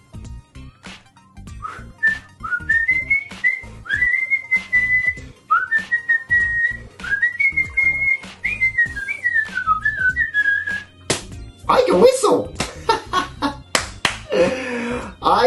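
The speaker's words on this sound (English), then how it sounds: "I can whistle." A person whistles a wavering, sliding tune at close range over several seconds, mixed with sharp claps or taps, followed by a burst of lively voices and noise at the end.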